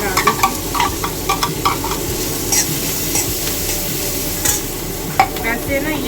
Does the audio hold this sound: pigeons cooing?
no